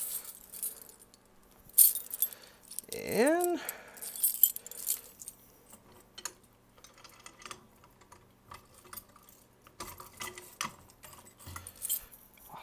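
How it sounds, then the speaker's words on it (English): A brief metallic jingle of keys around the middle, close by, taken out to reset a fire alarm pull station, followed by scattered small clicks and handling noises with a word spoken at the start. "Let me just get my keys out."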